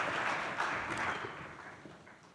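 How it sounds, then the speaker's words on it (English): Brief applause from a conference audience welcoming a speaker onto the stage, a soft, diffuse wash of clapping that tapers off within a couple of seconds. "Please welcome him with a round of applause."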